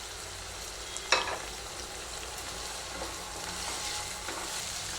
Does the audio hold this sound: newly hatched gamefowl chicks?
no